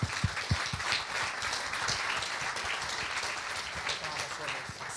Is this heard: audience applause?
yes